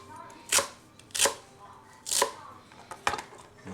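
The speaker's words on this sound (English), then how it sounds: "Just cut off the ends. And then just cut them." Knife chopping okra into bite-sized pieces on a cutting board, four distinct sharp chops spaced evenly about half a second to a second apart, close and fairly crisp, with no talk.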